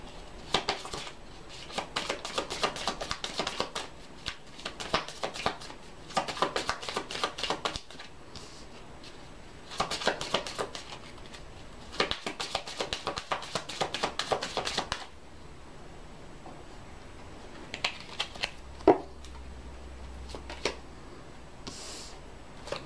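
A deck of self-care cards is shuffled in fast, crisp riffling bursts, loud and close, with short pauses between rounds, then a few softer taps and slides near the end.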